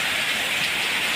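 Heavy rain falls in a steady, dense hiss with no pauses, close and even throughout.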